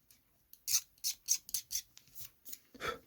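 Plastic model kit parts for a Nieuport 17 cowling, propeller and wheels being scraped to remove lumps: short, quiet, crisp scrapes in a quick series of about eight strokes, close up in a quiet room.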